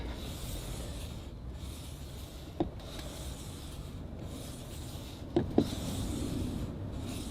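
Katana blade being sharpened and polished, a soft continuous rubbing and rasping stroke close by, broken by a few faint clicks and taps.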